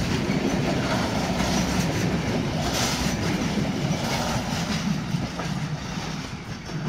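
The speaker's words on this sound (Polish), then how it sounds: "I właśnie przejechał koło nas ostatni wagon." Freight train wagons of a mixed consist, including CFL Cargo cars bound for Luxembourg, roll steadily past close by the tracks at Bischofsheim, with continuous loud rumbling and rhythmic wheel clatter throughout.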